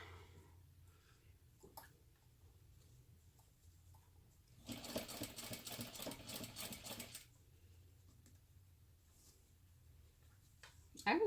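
Sewing machine top stitching a pocket on a crossbody bag, heard as a single close burst of rapid rhythmic stitching lasting about two seconds within an otherwise quiet room.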